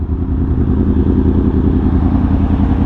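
Yamaha R1M sport motorcycle fitted with a new SC Project exhaust, idling close by with a deep, steady, throbbing engine note that holds evenly throughout, with no talk.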